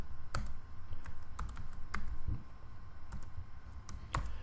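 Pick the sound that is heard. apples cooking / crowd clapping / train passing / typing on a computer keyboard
typing on a computer keyboard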